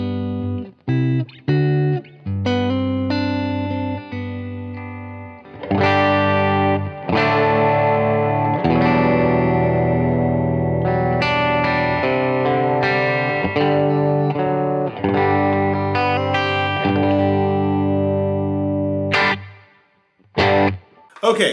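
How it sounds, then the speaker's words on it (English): Electric guitar played through a Neural DSP Quad Cortex on a hall reverb setting, loud sustained chords and notes ringing into long washy tails, with brief gaps between phrases. "So this is our hall setting, so go ahead and play this."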